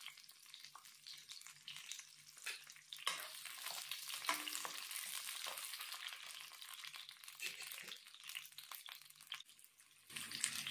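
Onion and garlic sizzle steadily in a hot pan while cooking pakbet, a bright continuous frying hiss with occasional stirring scrapes and a louder burst near the end, no talking over it.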